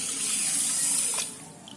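A bowl of water is poured in steadily over sugar for whole wheat shakkarpara, a close, continuous splashing stream that lasts about a second before tapering off into quiet dribbles.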